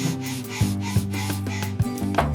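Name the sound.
sanding wood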